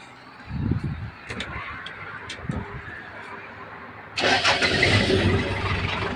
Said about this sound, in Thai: เป็น เครื่องร้อยยี่สิบแรง ฟังเสียงเครื่อง